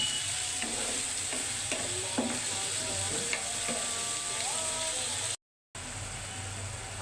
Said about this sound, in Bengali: আলু পেঁয়াজ ভাজা হয়ে গেছে